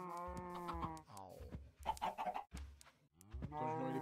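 Minecraft chickens cluck in short, close bursts with brief pauses between them, heard loudly with almost no talk over them.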